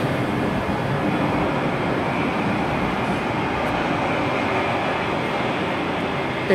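A ScotRail train runs into Glasgow Queen Street from Eastfield sidings, a steady, fairly loud broadband rumble that holds level throughout with no voices.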